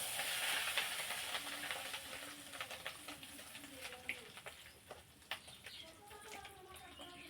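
Batter made with fish roe hisses and sizzles as it drops into hot mustard oil. The loud hiss spatters with crackles and eases off slightly, with faint talk in the background.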